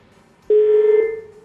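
Telephone tone after a call line is cut off: a single steady electronic tone starts abruptly and holds loudly, alone, for about a second.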